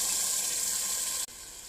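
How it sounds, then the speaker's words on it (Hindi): Boiled kidney beans poured with their cooking water into a pot, a steady close gush of liquid that runs continuously and then cuts off abruptly near the end, with no voices. "राजमा आपने उसके पानी समेत ऐड करना है जिसमें हमने बॉईल किया था, सारा इसमें हम ऐड कर देंगे।"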